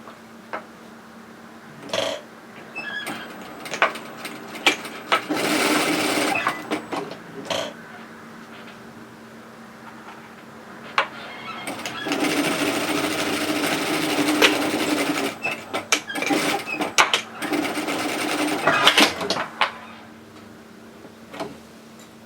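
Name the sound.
sewing machine stitching a tote bag seam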